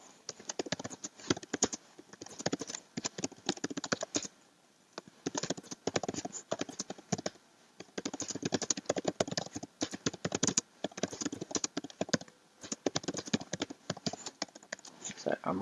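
Someone types a comment on a computer keyboard in quick, irregular bursts of close, crisp key clicks separated by short pauses.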